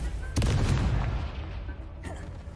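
Incendio fire spell cast in Hogwarts Legacy, a sharp burst at the start followed by a roaring, crackling whoosh of flame that slowly fades, with battle effects around it.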